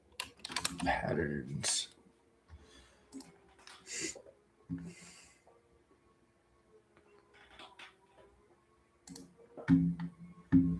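Keyboard typing in bursts of quick clicks, moderately close and fairly quiet, with someone talking over and between the keystrokes.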